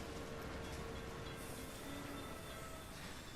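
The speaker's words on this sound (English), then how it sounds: "It's going to have these freight trains running on, so we need all those signals to keep things moving." Freight trains running in the railway simulation game Railway Empire produce a faint, continuous rumble of rolling wagons with a few thin wheel squeals, alone and without speech.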